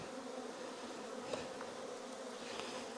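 Honey bees buzzing inside an opened hive full of brood and honey during a swarm re-queening inspection, a dense continuous drone close up, steady and even in loudness, with no voices.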